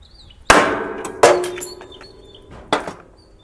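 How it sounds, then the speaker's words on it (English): A hammer whacks a metal lawn mower part three times at uneven intervals, each blow a sharp ringing clang that decays over a lingering metallic tone, close and loud. "I'm just going to whack it with a hammer."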